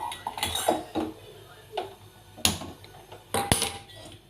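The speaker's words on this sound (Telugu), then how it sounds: "స్టవ్ వెలిగించుకొని గిన్నెను స్టవ్ మీద పెట్టుకొని" A metal cooking pot is set down on a kitchen stove with a series of close, sharp clanks and clinks. The irregular metallic knocks are spaced out between quieter pauses.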